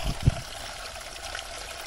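Spring water trickles and splashes steadily from a small rock outcrop in a forest, a soft continuous burble heard close by with a brief thump near the start.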